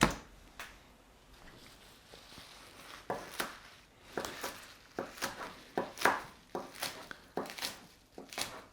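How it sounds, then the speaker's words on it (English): A knife chops kale on a cutting board in a kitchen: sparse cuts at first, then a quicker run of crisp, close taps and crunches, with no talking. "You might be looking at me chopping this right now"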